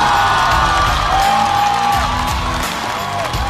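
A studio audience at a Chinese stand-up comedy roast show cheers, whoops and shouts as guests are welcomed onstage, loud and sustained, with music tones running beneath the crowd.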